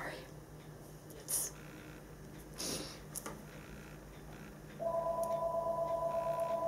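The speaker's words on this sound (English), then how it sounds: "So, there goes my phone" A mobile phone starts ringing indoors with a steady electronic tone that continues to the end, following a few soft handling knocks.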